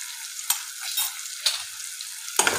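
Shredded cabbage for dry cabbage manchurian fries over low heat as pepper and spices are stirred in, a continuous hiss broken by a few sharp scrapes and clatters, close and moderately loud, with nobody speaking.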